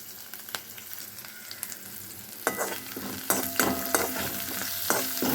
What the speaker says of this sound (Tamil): எல்லாத்தையும் வதக்கியாச்சு.